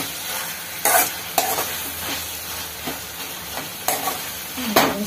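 Ivy gourd and other chutney ingredients are sautéed in a hot pan. A steady sizzle is broken by several sharp spatula scrapes and knocks at uneven intervals, close and fairly loud.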